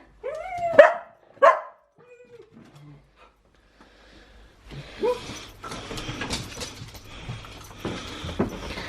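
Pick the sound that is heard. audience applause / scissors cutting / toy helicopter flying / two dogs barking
two dogs barking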